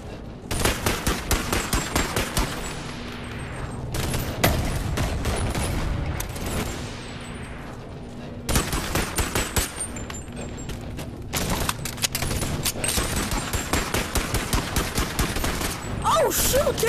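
Shotgun firing in the VR video game Bonelab, heard as dense bursts of rapid, repeated blasts in long volleys separated by short pauses, loud and continuous.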